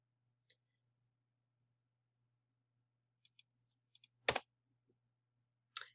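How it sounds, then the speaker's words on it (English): A computer keyboard being tapped quietly, a few faint scattered clicks followed by one firmer, louder keystroke and a last tap, all in near silence. "then we will hit enter"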